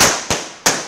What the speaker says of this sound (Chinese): 燃放鞭炮庆贺，现场喜气洋洋